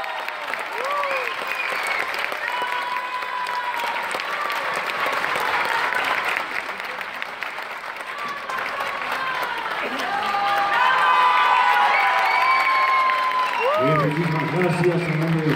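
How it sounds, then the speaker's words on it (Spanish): Audience applause and cheering for musicians of the Bolivian National Typical Orchestra at a folklore performance, sustained and full, swelling louder in the second half, with a voice speaking over it near the end. "A los dos, un fuerte aplauso."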